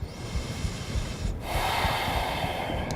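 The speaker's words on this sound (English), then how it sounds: "can you come back to the sound of your breath?" Slow, deep breathing during a yoga session: steady audible inhales and exhales through the nose and mouth, close and fairly soft, with a fuller airy exhale partway through and no talking.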